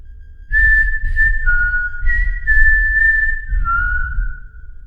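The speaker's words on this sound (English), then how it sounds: "I suddenly heard a whistle inside my room that sounded like Ring Around the Rosie" A clear melodic whistle plays a short nursery-rhyme tune resembling Ring Around the Rosie, heard indoors in a room, steady and fairly close over a low rumbling background.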